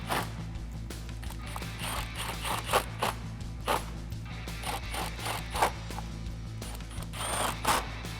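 Ratchet clicks and tool handling come in scattered bursts as 7mm factory bolts are driven back into a 2018-2019 Mustang chin spoiler, with occasional sharper ticks over steady background noise.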